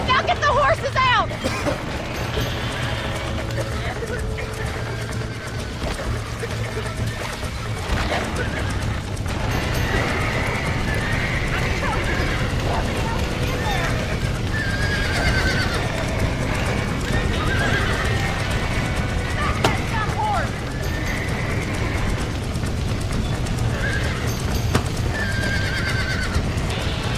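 In the Red Dead Redemption video game, horses gallop in a continuous clip-clop and neigh repeatedly over a busy, dense mix of game sound and background chatter.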